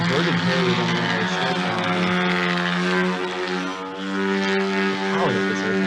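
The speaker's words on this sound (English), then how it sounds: "Power that this airplane is something else" A large-scale model aerobatic airplane flying at night produces a loud, sustained propeller drone with strong harmonic tones whose pitch sweeps up and down as it throttles and maneuvers, staying close and prominent with no talk.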